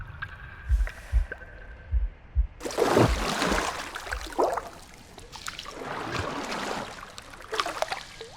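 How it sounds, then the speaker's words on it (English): A deep, loud heartbeat in The Last Campfire video game, with low rhythmic thumps through the first few seconds, then giving way to sloshing, watery sounds. "a deafening heartbeat"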